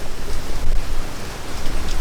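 Steady rain of a westerly storm pours over an anchored sailboat at Manjack Cay in the Bahamas, a dense, even hiss with low rumbling underneath and no break.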